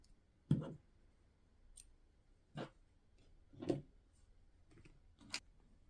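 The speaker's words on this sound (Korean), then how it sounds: "이 길이의 2배 정도를 남겨두고 실을 잘라줍니다" Scissors cut crochet yarn in a quiet room, making a few sharp, isolated snips and clicks spaced about a second apart, close by and with no talking.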